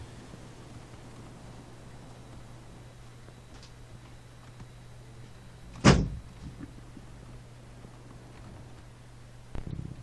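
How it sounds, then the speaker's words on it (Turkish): A door being pulled shut indoors, one sharp close slam in the middle against a quiet humming background, followed later by a fainter knock. "Dur ben şu kapıyı çekeyim geleyim ses gelmesin ya"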